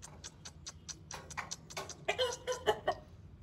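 Aseel chickens cluck and peck in a series of quick, uneven bursts, growing busier and louder toward the end, close by.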